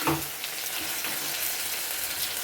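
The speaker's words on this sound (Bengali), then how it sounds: "আমি কিন্তু ঢাকা দিয়ে দিয়ে মশলাটা কষাই" Spice masala fries in a covered pan, giving a continuous, even sizzle and crackle at moderate volume with no voices.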